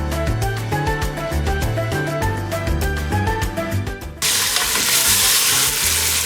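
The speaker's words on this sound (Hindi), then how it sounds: "अब मैं गोश्त को इसके अंदर खूब अच्छी तरह भून लूँगी।" After a stretch of music, chicken with garlic and ginger hits the pan and breaks into a loud, dense, continuous sizzle that fills the rest of the moment.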